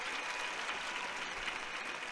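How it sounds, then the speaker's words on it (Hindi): A crowd of schoolchildren and devotees applauds at a religious gathering, welcoming Shivaji. The clapping is steady and fairly faint, as if heard from a distance, and lasts the whole two seconds. "हाँ, अब जोरदार तालियों से स्वागत करेंगे,"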